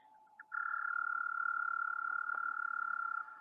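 An American toad gives a long, steady musical trill, loud and close, sustained for about three seconds over quiet background.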